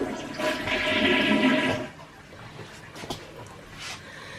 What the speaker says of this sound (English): You hear the toilet flushing,